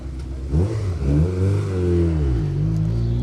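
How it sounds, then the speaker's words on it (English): A Group A Vauxhall Astra rally car accelerates on an asphalt rally stage, its engine note climbing through the gears, loud and close, rising steadily and holding its pitch. "here is the glorious Group A Vauxhall Astra"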